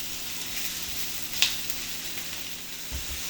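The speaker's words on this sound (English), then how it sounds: "So we're gonna let these mushrooms cook down." Mushrooms cook down in a hot pan, giving a soft, steady hiss of sizzling with one small sharp crackle midway and a faint low bump near the end, no voices.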